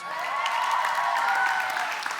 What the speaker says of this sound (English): Y'all clap for your senior pastors